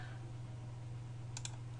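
A pair of quick computer mouse clicks, close and crisp, over a low steady electrical hum with no talking.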